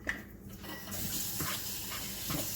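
Warm water runs from a kitchen tap into a cup while making ravioli dough, a steady soft gushing stream that starts after a brief clatter and continues to the end.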